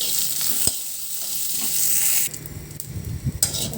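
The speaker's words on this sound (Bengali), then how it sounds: "কালি জিরা ভর্তা করার জন্য রসুন, পেঁয়াজ, মরিচ আমি একটু সাথে ভেজে নিচ্ছি।" Garlic, onion and chilli fry in a pan for a kalo jeera mash, giving a steady broad sizzle with a sharp utensil knock early on and some stirring scrapes toward the end, close and with no talk.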